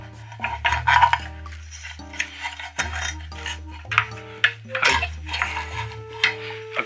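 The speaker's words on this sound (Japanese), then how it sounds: "ネジを外してカバーを取り外します。" Screws are removed and a cover is taken off a Honda NSX, producing close metallic clinks, scrapes and taps in an irregular rhythm, with brief ringing tones from handled parts and no talking.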